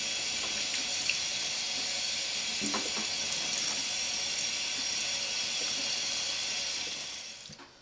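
Paua (abalone) foot scrubbed under running water, a steady close hiss of water from a tap that runs throughout with faint scrubbing knocks, fading at the end.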